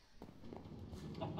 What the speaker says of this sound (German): Ja, da gackert es auch schon.